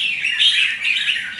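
A red-whiskered bulbul calls up close, giving loud, bright, warbling chirps that run almost continuously with slight rises and dips and no pauses, heard alone with no talking.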